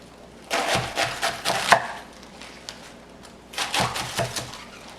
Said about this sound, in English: So what you do is, each rib, you're gonna put your knife right through it and go right to the end.